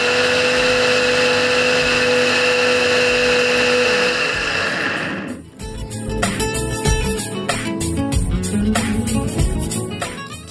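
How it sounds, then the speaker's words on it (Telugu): An electric mixie runs at full speed, blending garlic with a little water into a paste, a loud continuous motor whine that stops after about five seconds, followed by background music. "వీటిని ఒకసారి మిక్సీ పట్టేసి తర్వాత కొద్దిగా వాటర్ యాడ్ చేసేసి పేస్ట్లా రెడీ చేసేసుకోవాలి"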